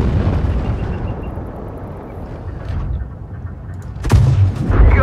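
A Sherman Firefly tank fires its gun in World of Tanks Blitz, a loud deep boom over constant engine rumble, followed by another heavy impact.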